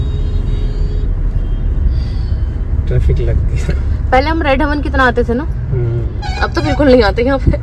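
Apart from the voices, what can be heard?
road traffic jam at station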